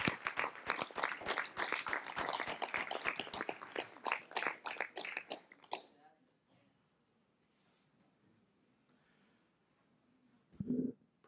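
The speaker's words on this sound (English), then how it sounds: "round of applause for our artists." Audience at a board of education meeting claps for student artists, a burst of scattered hand claps for several seconds that stops abruptly, leaving a quiet room with a brief low sound near the end.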